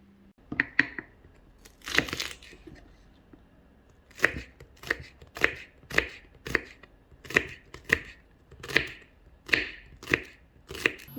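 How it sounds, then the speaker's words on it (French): Knife chopping shallots on a cutting board, a run of sharp, close taps in a fairly even rhythm after a few scattered cuts, crisp and without talk. "je vais préparer à couper les échalotes"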